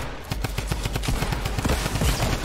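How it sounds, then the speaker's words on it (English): Fortnite Season 10 solo gunfire: a fast, steady run of close, loud shots in a regular rhythm with no speech. "why am I getting sniped"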